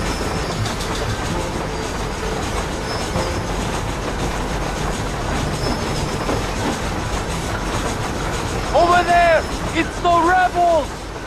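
A train from the game Red Dead Redemption rolls along rail tracks with a steady rumble and clatter that fills the scene, while speech and brief tonal calls rise near the end.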